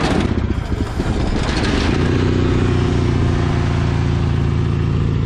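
A Cub Cadet 782 garden tractor engine turning over and catching, then settling into a loud, steady close idle with a rough mechanical drone.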